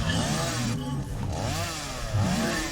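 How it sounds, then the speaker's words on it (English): A chainsaw in the video game Satisfactory revs loudly and continuously, its engine pitch wavering up and down in repeated surges, close and with no voices. "I've got a chainsaw now."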